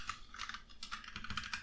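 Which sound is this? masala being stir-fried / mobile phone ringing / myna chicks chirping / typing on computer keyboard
typing on computer keyboard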